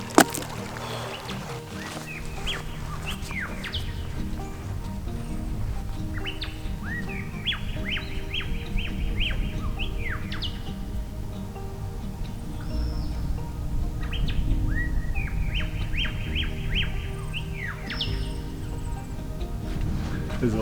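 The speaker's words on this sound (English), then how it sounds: "There's a white bird just up in the bushes just up there. And when it sings, it echoes off this sandstone wall" A white bird sings from bushes beside an Australian river below a sandstone wall. Two bright, rapid trilling phrases ring out with a slight echo over the steady rush of flowing water.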